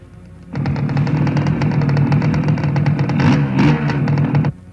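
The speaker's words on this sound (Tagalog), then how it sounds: "Yang nakamotor na yan, lalapit doon sa kotse." A motorcycle closes in on a car in a Filipino action film scene, its engine starting abruptly into a loud, steady revving roar with a slight rise near the end, then cutting off sharply.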